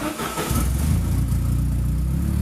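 A car engine fires up after a brief crank and settles into a loud, steady running note close by, with no one speaking over it.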